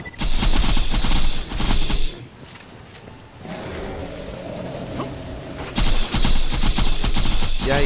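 Rapid bursts of gunfire from a Borderlands raid boss fight against Son of Crawmerax, loud and dense at the start and again at the end, with a quieter rumbling stretch in between.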